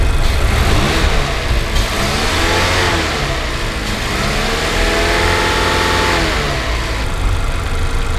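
A certified used Mazda 3 sedan's engine revs while parked, a steady, loud mechanical roar that climbs and falls in pitch through several throttle blips, heard close and alone without talk.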